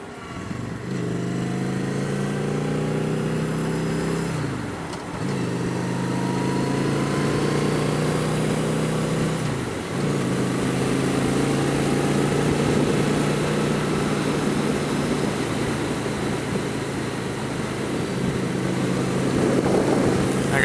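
A motorcycle engine drones steadily while riding, revving up through the gears with rising pitch sweeps and brief dips at shifts, under constant wind rush and road noise.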